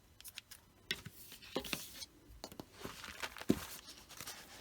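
Fabric pieces for a journal background are trimmed with scissors in a string of soft, close snips and faint rustling, quiet and irregular with no talking.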